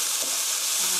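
Sliced onion, garlic and paprika stir-fry in a hot pan for spicy tteokbokki, giving a steady, close, loud sizzle with no talking over it.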